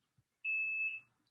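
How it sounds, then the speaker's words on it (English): A single electronic timer alarm gives one steady, high-pitched beep lasting about half a second, clear and close in an otherwise quiet room. "Sorry, my timers are going off."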